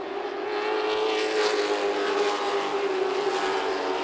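Stock race cars at Myrtle Beach Speedway roar through their final lap, a loud, steady engine drone holding for the whole stretch with a slight swell as the pack passes.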